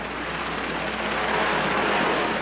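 Helicopter rotor noise from 1983 archival footage, a steady broadband whir that holds loud and continuous throughout, with no talking over it.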